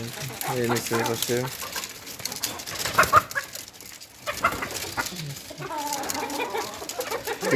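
Several native village chickens on a poultry farm cluck and chatter close by, with scattered bursts of calls over a busy background and a voice speaking at times.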